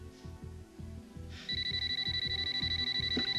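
A telephone rings loudly and steadily in a room, its electronic tone starting partway through and continuing in a regular pulsing pattern over a low rhythmic musical background.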